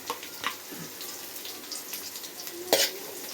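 Cumin and cinnamon sizzling in hot oil in a pan while ginger chicken is being cooked, a soft steady crackle broken by a few sharper spits and one louder burst near the end.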